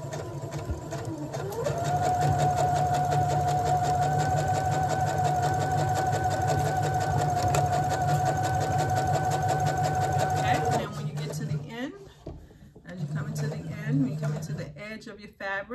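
Sewing machine running fast as it stitches along a fabric edge, a loud, steady mechanical whir and rapid clatter for about nine seconds, then stopping and restarting briefly in short bursts.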